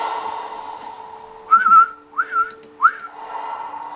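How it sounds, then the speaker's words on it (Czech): Whistled notes in the Phantasmat video game, a sustained warbling tone followed by two short rising whistles, clear and close over a quiet humming background. "Těm hvízdem přivolal tu šipku."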